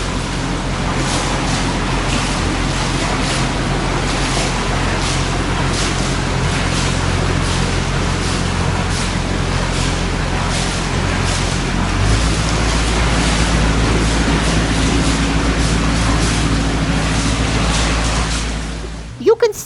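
A canal boat motors along the Canal du Midi near Le Somail, its engine giving a steady low drone with water wash, continuous and close, and voices occasionally heard over it.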